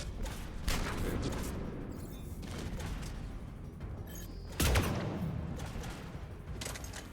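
Gunshots in Mass Effect 3, repeated loud blasts with one heavy shot standing out amid ongoing combat noise and a brief voice.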